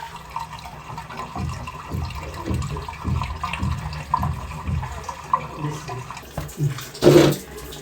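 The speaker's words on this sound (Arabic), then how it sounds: "الميه بتجري، ده معناه ان الموضوع الحمد لله سلك" Water runs and drains through a freshly unclogged household sink pipe, a steady gurgling flow with a louder gush near the end, under faint background noise.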